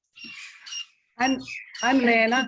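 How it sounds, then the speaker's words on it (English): Birds squawk and chirp outdoors in Los Angeles, bright calls breaking out in short bursts alongside someone briefly speaking close by. "a lot of birds"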